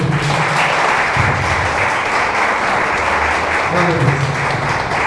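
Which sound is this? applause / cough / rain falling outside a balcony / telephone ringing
applause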